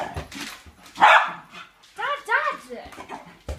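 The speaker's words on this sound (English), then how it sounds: "can you take the barking dog out of the room?" An indoor dog with hay fever barks and yips in short bursts, loud and close, mixed with several people talking nearby.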